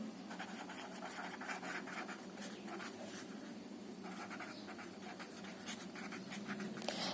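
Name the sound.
writing on a board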